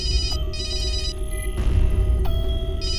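A telephone rings in repeated electronic bursts, loud and close, with a short pause between rings and no voices.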